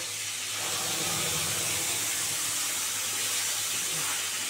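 Ground cumin, coriander, ginger and green chilli paste hitting a hot pan for a cauliflower and foli fish curry, giving off a steady, close sizzling hiss that stays even throughout with no talking.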